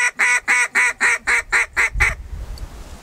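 A single reed duck call sounds eight quick, sharp quacks in a fast even cadence, loud and close, trailing off into a low rumble of handling noise.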